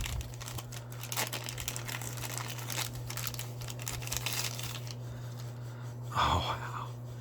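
Plastic bag crinkling close up while a knife is unboxed, soft rustles and crackles throughout with a louder crinkle near the end, faint speech in the background.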